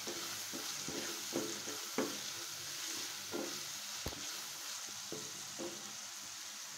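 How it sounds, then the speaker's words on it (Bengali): Chicken pieces and potatoes fry together in a pan with a quiet, steady sizzle, punctuated by occasional spatula taps and stirring scrapes at irregular intervals. "যতক্ষণ না মাংসটা ভাজা ভাজা হয়ে আসছে, ততক্ষণ আমি এটাকে সুন্দর করে ভেজে ভাজতে থাকবো"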